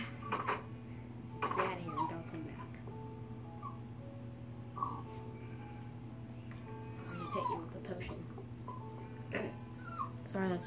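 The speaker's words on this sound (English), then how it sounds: "that's just my dog in the background" A dog whimpers and yips in short, high whines, fairly faint over a steady electrical hum, with some distant voices.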